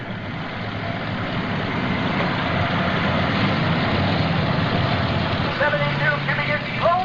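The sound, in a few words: modified tractor engine at a tractor pull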